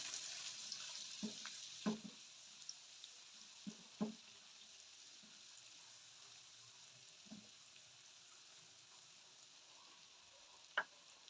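Garlic paste fries in hot oil in a pan, a soft, steady sizzle heard close and quiet, broken by occasional clinks and scrapes of a spoon stirring, with no talking.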